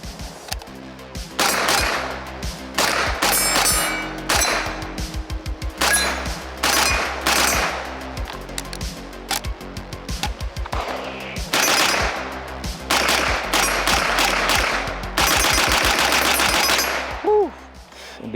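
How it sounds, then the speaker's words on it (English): An AKX9 9mm AK-pattern rifle fired unsuppressed, loud sharp shots cracking out in rapid strings and bursts with short pauses between, echoing, one after another for the whole stretch. "Let's shoot it, because I haven't shot this thing unsuppressed in years."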